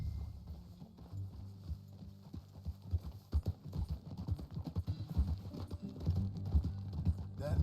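Horse hooves clip-clop at a steady walking rhythm as a rider travels in Red Dead Redemption 2, close and distinct over a low, continuous background hum.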